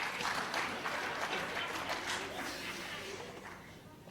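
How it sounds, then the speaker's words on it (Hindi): Audience applause at a theatre play, a sustained dense clatter of many hands clapping, faint overall and gradually thinning toward the end. "ताली खुल के बजाओ"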